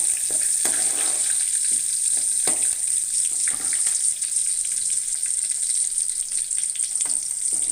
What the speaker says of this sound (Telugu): అవి కొంచెం రెడ్గా బ్రౌన్ కలర్లో ఫ్రై అయ్యే వరకు వెయిట్ చేయాలి.